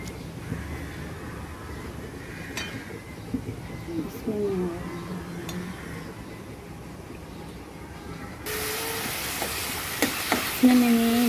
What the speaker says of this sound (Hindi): इसमें मैंने जीरा, करी पत्ता, अदरक, लहसुन का पेस्ट और प्याज डाल के अभी इसे अच्छे से भूनूंगी